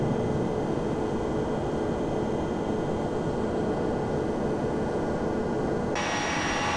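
Steady, loud roar of Boeing 767 engines during an automatic takeoff in a flight simulator game, a broad continuous rush that holds throughout and brightens with added high hiss near the end; no one speaks.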